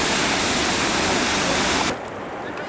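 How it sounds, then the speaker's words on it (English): A waterfall near Briksdal Glacier in Norway roars as a loud, steady broadband rush. The rush cuts off abruptly near the end, leaving quieter background noise. "There's a glacier up there and the picture of the waterfall coming in."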